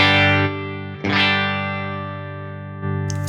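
An electric guitar played through a Line 6 Helix with extra drive rings out in sustained, heavily overdriven chords, loud and close with one quick re-strike partway through.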